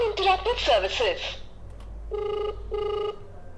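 A Pebble Cosmos Prime Bluetooth calling smartwatch rings during a call test. Two even, bright ring bursts follow a stretch of speech, loud and close.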